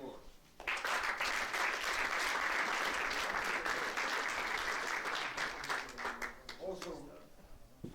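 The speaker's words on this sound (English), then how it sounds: "Big applause to the person who is not with us" Sustained applause from an audience at a judo refereeing and coaching seminar, dense clapping filling the room for several seconds before tapering off as a voice begins speaking near the end.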